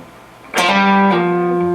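Electric guitar note slurs up with a hammer-on, holds, drops with a pull-off, then bends upward half a step, played clean and sustained with no talking.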